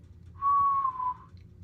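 A person whistles a single clear, sustained low note that dips slightly in pitch, close and quiet against a faint background hum.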